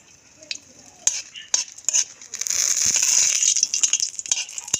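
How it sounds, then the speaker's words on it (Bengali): Dried red chillies frying in mustard oil: a steady sizzle that swells loud in the middle, with a few sharp stirring clinks and scrapes of a utensil against the pan, no voices. "শুকনো মরিচ 4টা ভেজে নেব।"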